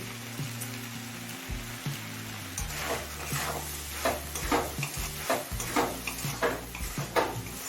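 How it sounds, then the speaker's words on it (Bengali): A spoon stirs sugar into frying kudri (ivy gourd) curry with egg, scraping the pan in a quickening rhythm of strokes over a steady close sizzle. "নাড়তে নাড়তে চিনিটা ভালোভাবে মিশিয়ে নিয়েছি"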